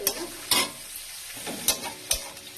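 Tomato and spice paste with ginger, cumin and garam masala being stirred in a frying pan, a steady sizzle broken by four sharp spatula scrapes spaced through the stretch, close and alone.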